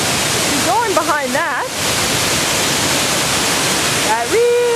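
Steady broadband roar of a very large waterfall at Moul Falls, loud and continuous throughout, with brief voices talking briefly over it near the start and again near the end.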